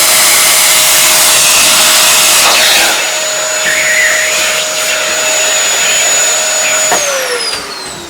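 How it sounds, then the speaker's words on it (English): A hoover runs close and loud, sucking up drilling mess from a board during track laying, a steady whining roar whose pitch shifts as the nozzle moves and drops near the end. "So a hoover is useful for just hoovering up the mess."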